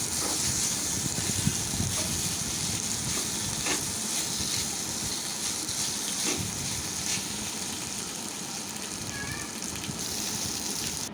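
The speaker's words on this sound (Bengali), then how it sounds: "কড়াইতে দিয়ে দিলাম পেঁয়াজ, আদা রসুন বাটাটা আমি তেলের সঙ্গে ভালো করে ভেজে নেব" Onion, ginger-garlic paste, capsicum and tomato fry in hot oil for a Chinese-style chicken curry, a loud continuous sizzle with occasional stirring scrapes, close and without talk.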